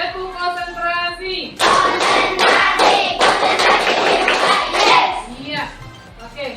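Schoolchildren clap together in a rhythmic concentration chant, a dense run of crisp group claps after a spoken lead-in, with children's voices calling out over the beat.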